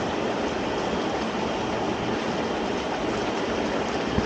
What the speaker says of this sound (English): This right here does the bubbles.